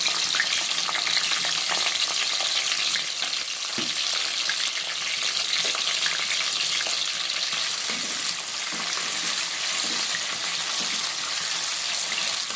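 Sliced onions and green chillies frying in hot oil, a continuous loud close sizzle with faint occasional stirring, no voices.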